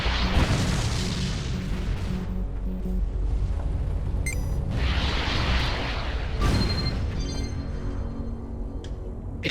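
Missiles exploding on targets in the space combat game Everspace, with three deep, rumbling blasts swelling and fading over a steady engine-like drone, accompanied by faint electronic beeps.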